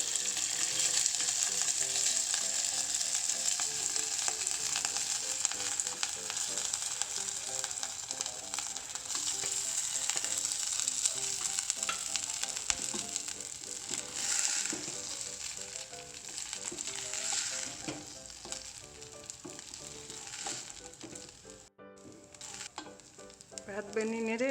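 Cooked rice stir-fried in a pan with sizzling cumin tempering, a steady loud frying hiss with scraping and stirring noises throughout, close and continuous, with no talking.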